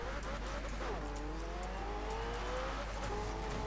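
Race cars in a Forza Horizon 4 road racing series race, engines revving and whining with pitch sweeps as gears shift, a brief tire squeal, moderately loud and continuous over a steady low hum.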